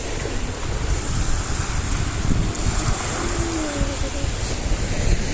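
Steady roar of sea waves and wind washes over everything, constant and close, with voices speaking briefly beneath it.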